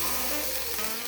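Teriyaki chicken sizzles in a pan with no oil, giving a steady close-up hiss and crackle that holds throughout, with no talking.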